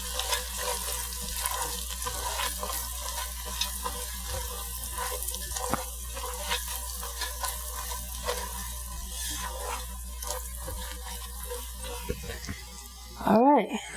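Garlic cooks gently over low heat in a pan with bacon, giving a soft, steady sizzle and frying crackle throughout, with a few light utensil clinks near the end.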